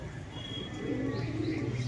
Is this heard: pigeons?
yes